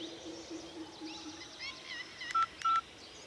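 A telephone keypad beeps twice in sharp DTMF dialing tones, made to call friends to a park, after faint birdsong and soft background ambience.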